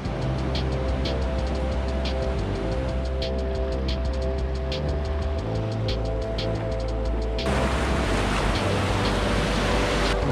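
Ocean surf on a Nicaraguan beach, a loud broad continuous wash of breaking waves mixed with steady engine-like hum, rising into a fuller roar near the end, with no talking.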